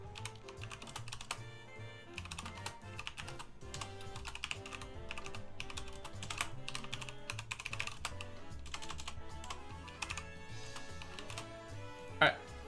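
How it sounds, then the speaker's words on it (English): Typing on a computer keyboard rattles along in quick irregular clicks, faint and close, beneath a steady layer of background music. "I need to type something."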